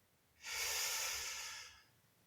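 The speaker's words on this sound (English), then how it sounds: "Breathe in." A person takes one slow, deep breath in during a guided breathing exercise: a single soft, airy inhale that swells for just over a second and then fades, close and alone with no talk.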